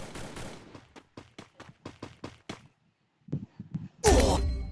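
In a video game, a rapid string of about ten sharp gunshots rings out, then a few softer shots after a pause, and then a loud noisy blast at the end.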